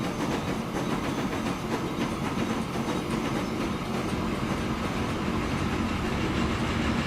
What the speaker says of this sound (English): First train is on its way.